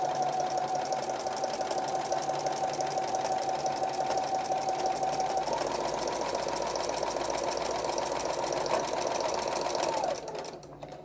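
A sewing machine stitches a homespun fabric rag quilt, running in a fast steady mechanical whir with a faint tonal hum for about ten seconds before stopping abruptly.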